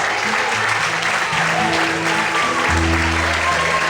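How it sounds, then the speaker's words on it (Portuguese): A church congregation applauding during a sermon, a continuous dense wash of clapping from a crowd, with music tones sustained underneath throughout. "Você pode aplaudir e exaltar Ele por isso."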